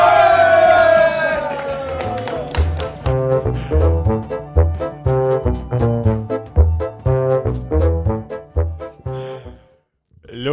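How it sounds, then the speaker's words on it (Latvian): An audience on a Latvian game-show podcast cheers and claps in loud, rhythmic bursts, with voices shouting over the beat. The noise dies down sharply near the end. "Es domāju, tādi aplausi Karlīnai."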